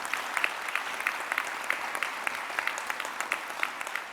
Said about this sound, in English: let's give another round of applause to all our young achievers.